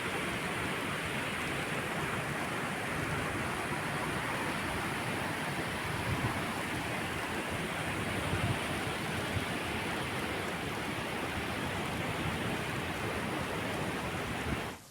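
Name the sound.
flooded Ghod river gushing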